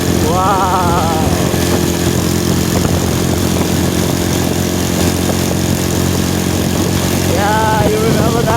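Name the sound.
motorbike engine passing on road to market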